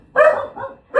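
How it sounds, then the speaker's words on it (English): Several dogs barking indoors, a loud burst of barks followed by a softer yip and another bark starting at the end, close and alone with no talk. "The my dogs interrupted me"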